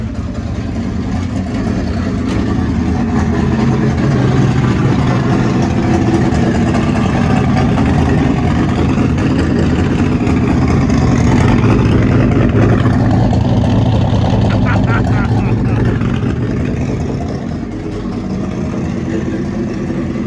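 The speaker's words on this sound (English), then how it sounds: "I got the idle turned down a little bit." A Ford 302/351W V8 idles after a coil-on-plug conversion, a loud, close, steady rumbling idle that holds evenly for about twenty seconds with only slight swells and a small dip near the end.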